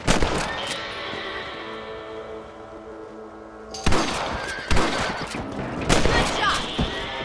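Several sharp gunshots ring out in Red Dead Redemption while hunting rabbits, one early and a few more in the second half, over a sustained in-game background tone.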